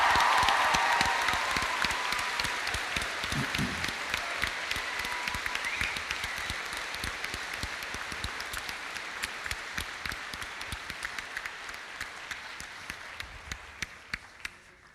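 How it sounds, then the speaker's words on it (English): Large audience applause at the BT Young Scientist and Technology Exhibition 2025 opening ceremony, loud dense clapping in a hall that slowly thins and fades to a few scattered claps by the end. "Let's give them a huge round of applause."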